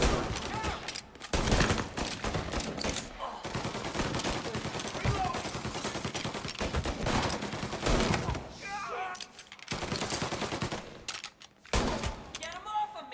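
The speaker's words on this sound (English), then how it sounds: "Oh, I get the Tommy gun." Tommy gun firing in Mafia Definitive Edition, rapid bursts of automatic gunfire repeating over a dense action soundtrack, with pauses between volleys and shouting voices in between.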